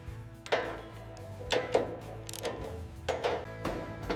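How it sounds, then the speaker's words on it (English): A torque wrench tightens bolts on a 1910 Ford Model T, making several sharp ratcheting clicks in short bursts spaced about a second apart, close and clear with no talk. "We use the torque wrench to ensure the bolts are secured to the exact specifications for the Model T."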